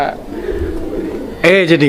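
A pet pigeon of the colouring golla type coos close by, a soft low throaty call near the start and a louder voiced coo toward the end, with a voice heard in between.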